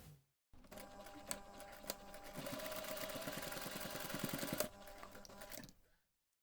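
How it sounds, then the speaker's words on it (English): A sewing machine bastes the raw edges of a fabric coin pouch, stitching in a steady, close, mechanical whir that runs continuously for about four seconds with small clicks at the start and a slowing finish. "we're going to take this to the machine and we're going to baste our raw edges"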